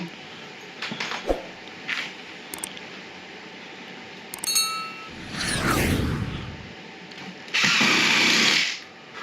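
Power drill driving longer screws into the bottom of an exterior door frame, with short bursts of whirring, clinks and handling knocks, then a louder sustained drilling run near the end, close and loud with no talk.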